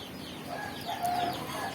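Free-range village chickens clucking inside a simple coop, soft overlapping clucks and chatter at moderate distance, steady and continuous with no talking.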